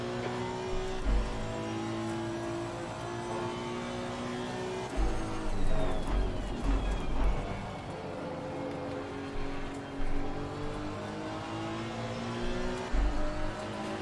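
Race car engines in a racing video game, a Honda NSX Evo at Barcelona, with a steady loud engine drone and rising, shifting harmonics as it accelerates, other cars' engines faintly mixed in, no talking.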